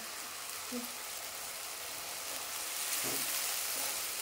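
Ginger and garlic frying in a cooking pan, a steady soft hiss of sizzling oil with a faint stir or two, quiet and continuous.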